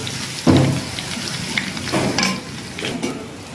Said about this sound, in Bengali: ফোড়ন কমপ্লিট হালকা হালকা করে ভাজা হয়েছে